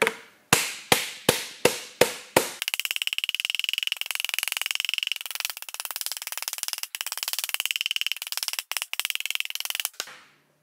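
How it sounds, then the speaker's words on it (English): Six sharp, evenly spaced hammer blows ring out on metal being hammered against a form, followed by a long run of rapid, rattling strikes before stopping abruptly. "So now I can hammer this part against the form."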